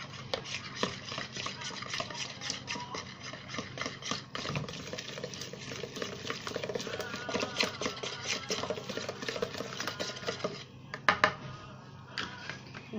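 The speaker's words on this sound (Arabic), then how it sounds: "نخلطهم كويس قوي بقى بالمضرب اللي هو اليدوي" Steady, fast scraping and clinking of a hand whisk beating cupcake batter in a bowl, continuous and close, with a few sharper knocks near the end.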